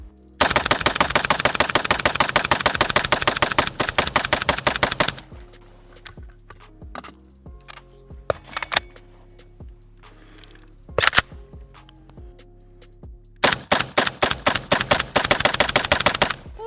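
Stenzel SAK-21 AK rifle fired rapidly in long strings of close, loud shots, with a pause of scattered clicks and clatter in the middle before another fast burst.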